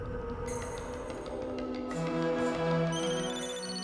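A phone ringtone chirps in repeated electronic bursts over a steady background hum, with no voices.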